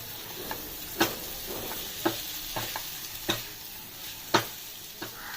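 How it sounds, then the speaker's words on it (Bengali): Fried potatoes stirred into a spice masala in a pan for aloo palak, with a spoon scraping and knocking at an irregular pace over a soft, steady sizzle, and no voices. "ভালো করে মশলাটার সাথে মিক্স করব"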